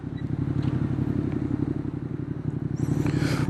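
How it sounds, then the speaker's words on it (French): A 2019 Yamaha XSR 700 accelerating toward the motorway, its engine a loud, steady, throaty drone heard from the rider's position, with wind rush building near the end. "Comme ça je te montre un peu comment elle accélère."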